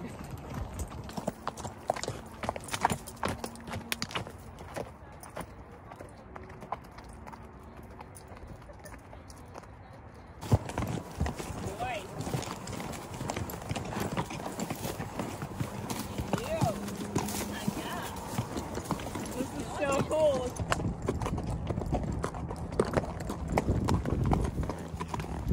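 Horse hooves clip-clop steadily during a sunset trail ride, a close, even walking rhythm that goes on throughout while riders talk over it.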